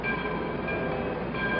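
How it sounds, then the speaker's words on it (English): A steam train engine cartoon sound effect runs as a continuous, even rail rumble with thin tonal ringing above it, steady and fairly loud, with no distinct puffs and no speech. "he was on his way back to the roundhouse now, puffing and blowing with pride"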